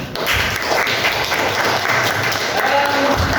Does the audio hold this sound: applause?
yes